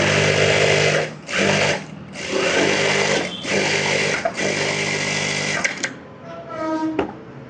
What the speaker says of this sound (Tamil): இப்போ எஜ்ஜு தையல் போடுறேன்